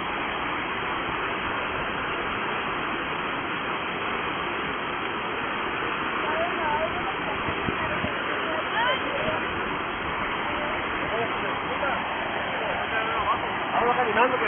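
Floodwater rushes after heavy rains in Baja California, a steady, dense roar of moving water that holds constant throughout, close and loud, with faint voices occasionally beneath it.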